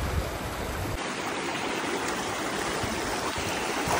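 Fast, cold river water rushing during a slow crossing on the road from Itanagar to Sagalee, a broad continuous roar close by that stays steady throughout with no voices over it.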